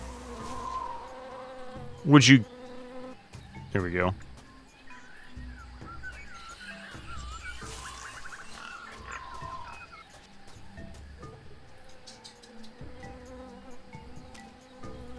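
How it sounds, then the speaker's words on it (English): Buzzing insects, bees, in a noisy jungle scene from the game Tales of Monkey Island, a steady wavering drone with faint chirps and rustles, interrupted by two brief louder bursts, with someone speaking briefly. "I hear bees."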